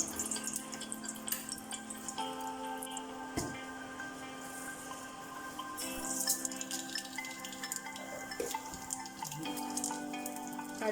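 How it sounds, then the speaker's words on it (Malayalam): Mustard seeds and dried red chillies frying in hot oil for a folded layered chapati side dish, giving a steady hiss with scattered small pops and crackles throughout, fairly close and moderately loud. "കടുകും ഉണക്കമുളകും കൂടി ഇടാം"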